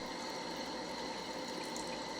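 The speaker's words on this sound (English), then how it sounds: "Stick your finger in the illusion, and the water falls right down." Water trickles continuously in an anti-gravity humidifier, model LZ599 with an 800 ml tank, a faint, steady, even flow with no voices.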